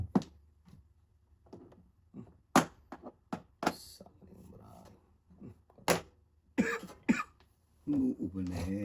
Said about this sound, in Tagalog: Umuubo na eh.